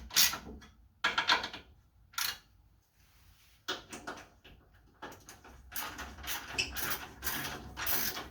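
A ratchet snugging bolts on a Jeep XJ steering box brace clicks in several quick bursts separated by short pauses, close and clear, with no talking.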